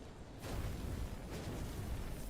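A tank explodes in the video game Lies of P, bursting suddenly into a loud, broad boom after a brief quiet moment and rumbling on heavily to the end.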